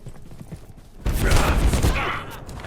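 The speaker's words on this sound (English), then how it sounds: "I almost got shot out by my own turret." Automatic turrets in Abiotic Factor open fire, a sudden loud burst of rapid shots that cuts in after a quieter moment and keeps rattling close by.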